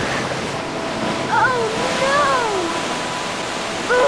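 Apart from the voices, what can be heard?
river water flowing, animated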